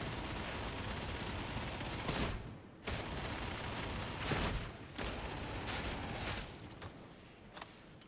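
A Recon Lasgun fires in rapid, sustained bursts in a video game, a dense buzzing stream of shots broken by brief pauses.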